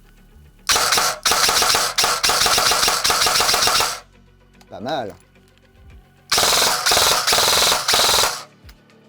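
A G&G ARP9 airsoft replica with a plastic body, metal gearbox and high-speed motor fires long full-auto bursts of rapid, sharp mechanical clacks, close and loud. A short spoken remark and a brief electronic beep fall in the gap between the two bursts.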